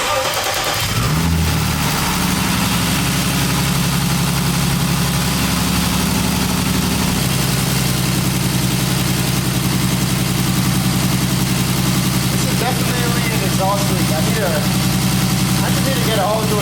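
A BMW E30 fitted with a forged turbocharged M50 engine starts and settles into a loud, steady idle, with a rough low rumble running throughout and brief faint voices near the end.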